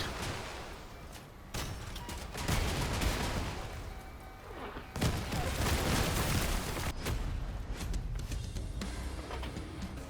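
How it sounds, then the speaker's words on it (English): Rocket and gun fire in the Crossout vehicle combat game: dense, continuous bursts of shots and blasts roll on for ten seconds, loud and close, with no voices. "A good old rocket fight."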